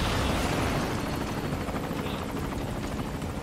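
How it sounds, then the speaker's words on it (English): An enemy helicopter in Metal Gear Solid Ground Zeroes, on the Jamais Vu mission, gives off a steady, loud rotor drone with heavy thumping throughout, and no one speaks. "The chopper is next. It comes from the north."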